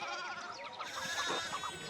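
Sheep bleat in the video game Pentiment, several wavering calls overlapping close by in a pastoral scene, with no talking.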